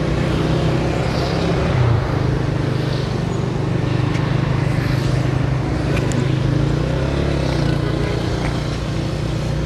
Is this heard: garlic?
no